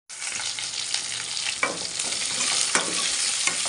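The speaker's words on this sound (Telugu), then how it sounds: "ఇంకా ఒక 2 minutes ఫ్రై అనిద్దాం" Onions sizzle steadily in a hot pan, a continuous crackling hiss with occasional louder spits and a faint scrape of stirring, while frying for sambar.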